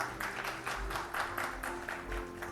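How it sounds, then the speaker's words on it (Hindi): Applause at a business awards ceremony, rhythmic clapping pulsing in waves from a seated audience, moderately quiet and steady. "जोरदार तालियां हो जाए एक बार"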